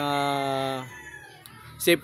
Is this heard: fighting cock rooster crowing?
yes